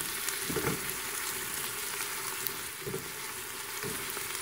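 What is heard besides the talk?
onions and celery sizzling in a soup pot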